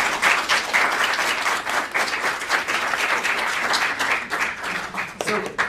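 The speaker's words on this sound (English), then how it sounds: "Could we get a round of applause?" A round of applause from the audience at a university debate event in Dubai: dense, steady clapping that continues evenly for several seconds before breaking off near the end.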